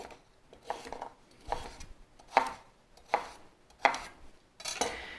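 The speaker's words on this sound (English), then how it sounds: "as you're cutting up these veggies, I want to cut them in similar size so that they cook evenly" A knife chops root vegetables on a board in about six evenly spaced, crisp thuds, close and distinct, with quiet pauses between strokes and no voices.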